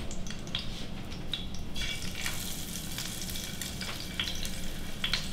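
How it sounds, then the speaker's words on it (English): Shallot rings frying in a pan of hot oil, giving a steady, close crackling sizzle with scattered sharp pops, heard alone without talk. "You can hear the pan working over here."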